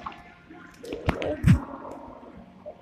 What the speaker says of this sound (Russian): Я вас опускаю под воду, и вы это все видите, ребята.